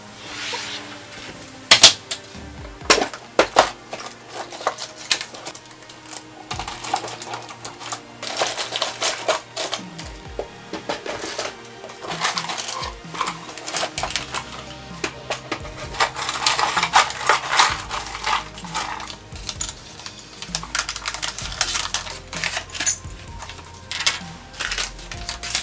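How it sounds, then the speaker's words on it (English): A sewing machine clattering in irregular bursts of rapid mechanical stitching, with short pauses and clicks between runs. "trying to break my sewing machine"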